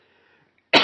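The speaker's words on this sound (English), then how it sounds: "For those who are hearing me cough, that's part of it." A single sharp cough lands close and loud right at the end, after a near-silent stretch with only faint murmuring, from someone suffering allergies and illness.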